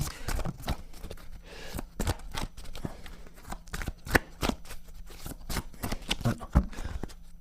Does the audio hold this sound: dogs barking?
no